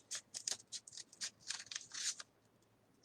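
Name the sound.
scissors cutting folded paper sheets into a ghost shape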